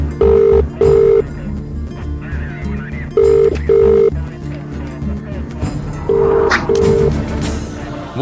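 Telephone keypad tones beep in three pairs of short, evenly spaced bleeps against a busy, murmuring background.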